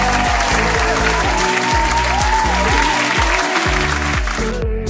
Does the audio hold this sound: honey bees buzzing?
no